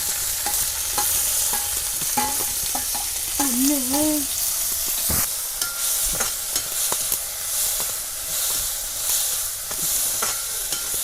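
Garlic and onion fry noisily in hot oil, a constant sizzle broken by scraping stirs, a sharp clank and a brief whistling tone.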